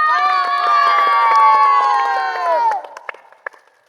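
A crowd at a water bottle-filling game cheers and shouts loudly for a few seconds, then the noise drops off, leaving a few scattered claps and calls.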